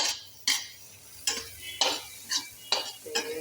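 Spices roasting in a pan while being stirred, a series of about seven scraping strokes at an irregular rhythm over a faint sizzle, close and with no talk.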